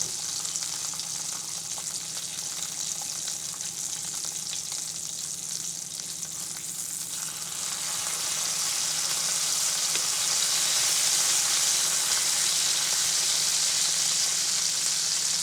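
Bacon frying in a pan, a steady dense sizzle that holds through the whole stretch and swells slightly louder in the second half, with no talking.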